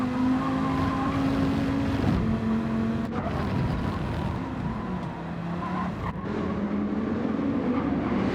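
Race cars in a racing video game, engines droning loudly as they brake into a corner and accelerate up to the next turn, with shifting engine pitch and brief tyre scrubs.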